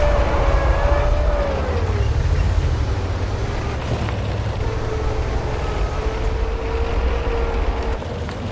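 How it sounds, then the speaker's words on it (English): Inside a tank turret in World of Tanks, small metallic rattles and creaks sit over a loud, steady engine rumble with a drifting whine, continuous and close. "You can hear all those little individual rattling noises and stuff like that in the turret."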